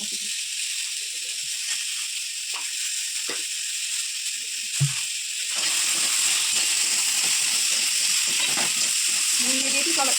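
Steady sizzle of salted potatoes frying fills the second half, preceded by quieter scraping and a brief clunk of potatoes going into the pan.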